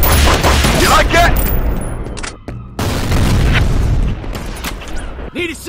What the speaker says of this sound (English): Grenade out! Fire in the hole!